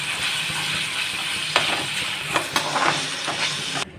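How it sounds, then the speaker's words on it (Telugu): Chopped tomatoes sizzle and hiss steadily in hot oil in a pan, with a few soft stirring knocks over the continuous frying noise. "బాగా మగ్గనివ్వాలి ఆయిల్లో."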